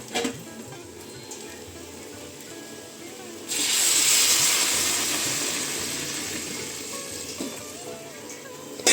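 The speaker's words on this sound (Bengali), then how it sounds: "এবার এই যে এখানে করে রেখেছিলাম গরম জল সে গরম জলটাই দিয়ে দেবো" Hot water hits a simmering potato curry in a pan, setting off a sudden loud hiss and sizzle that slowly fades back to a low bubbling, with someone talking around it.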